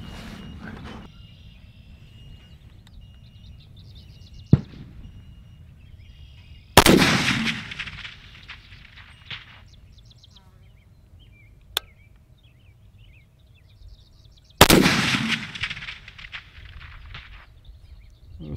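A Smith & Wesson M&P10 rifle fires Tula 165 ammunition at a 600-yard range, with two loud, sharp shots several seconds apart, each trailing off in a long echo, plus a few fainter knocks.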